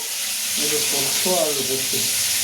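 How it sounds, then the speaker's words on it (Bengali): Constant loud sizzling of fish frying in hot oil, with a voice speaking briefly over the crackle. "মাছ ভাজার পর্ব তো চলছেই"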